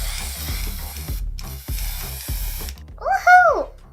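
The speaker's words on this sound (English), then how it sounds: "We're using colored hairspray red." Repeated hissing bursts of red colored hairspray aerosol, close and steady, over faint background music, ending with a short high-pitched vocal exclamation.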